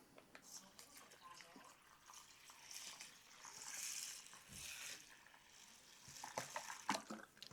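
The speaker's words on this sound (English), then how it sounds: "Then we're gonna add some water." Water runs into a bowl of rice in a steady, quiet pour with splashing and trickling, and a voice speaks briefly over it.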